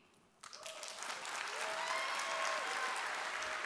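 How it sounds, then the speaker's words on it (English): A brief quiet moment, then a keynote audience at Unite 2016 bursts into steady, sustained applause that continues to the end. "Big applause."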